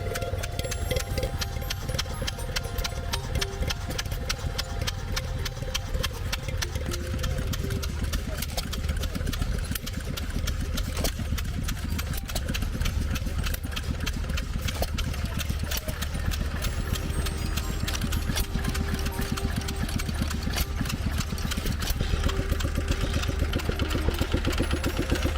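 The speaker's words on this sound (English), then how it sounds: "The puff-hiss exhaust of the hit-and-miss governors isn't noise." A hit-and-miss engine with cast-iron flywheels runs steadily, its exhaust giving a continuous dense chugging and puffing that holds a constant level throughout, with no talking over it.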